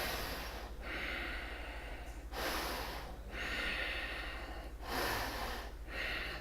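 Slow, deep breathing during a standing yoga pose, balanced on the left leg with the hips level and the foot flexed; soft, airy inhales and exhales rise and fall in a steady rhythm about every two seconds, close by with no talking.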